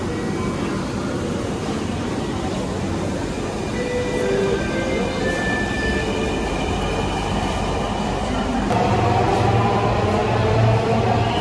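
A Dhaka metro train runs with a loud, steady rumble and whine from close by, with faint wheel squeal and a heavier low roar building toward the end.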